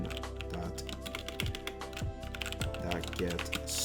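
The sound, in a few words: typing code on computer keyboard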